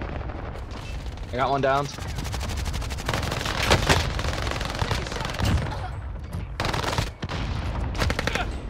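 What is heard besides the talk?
cluster strike explosions in Call of Duty Warzone video game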